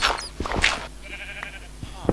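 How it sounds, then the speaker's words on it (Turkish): Sheep bleat on a farm in Minecraft, several short, close bleats in quick succession over faint game background sounds. "Burada koyun çiftliği de var."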